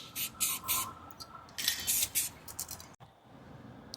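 Rust-Oleum spray paint hissing from a can onto the hard body of a Tamiya Lunchbox RC car, close and in short bursts of varying length with gaps between, no talk.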